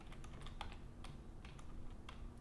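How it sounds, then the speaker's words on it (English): Rapid, uneven typing on a computer keyboard, close and clear, with crisp individual key clicks in irregular bursts and no talking. "I'm just typing."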